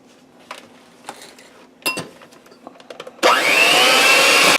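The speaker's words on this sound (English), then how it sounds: "I'm just going to beat my egg whites to stiff peaks for them." An electric mixer whirs loudly and steadily as it beats egg whites toward stiff peaks for Italian cream pancake batter, starting abruptly after a few soft kitchen clinks and taps.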